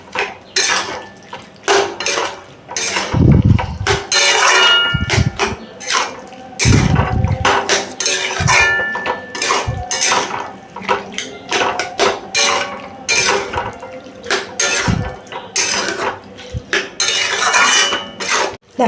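Chhana being mixed in a pan with a utensil while cooking Bengali chana potol: repeated metallic scraping and clanking against the pan, with loud irregular knocks and steady stirring noise throughout and no talking.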